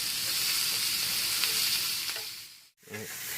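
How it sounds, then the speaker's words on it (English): Onions and peppers sauteing in a pan, a continuous close sizzle and crackle that holds steady, then drops out briefly before resuming at the end. "Just sauteing this, let it sweat."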